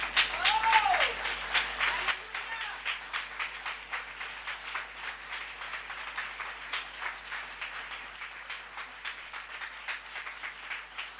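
A congregation applauds at a French-language church sermon, rhythmic, evenly spaced clapping that continues for several seconds at moderate volume with a brief vocal cry near the start.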